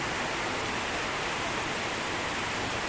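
Heavy rain pours down amid flooding with high water, making a steady, dense broadband hiss that fills the whole clip without breaks and no voices over it.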